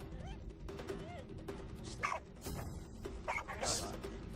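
A dog barks and yips in short bursts, with whimpering in between, while people talk nearby.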